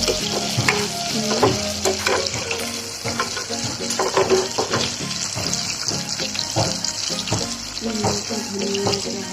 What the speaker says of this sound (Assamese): মাছখিনি দিলোঁ ধুনীয়াকৈ ফ্ৰাই কৰি ল'ব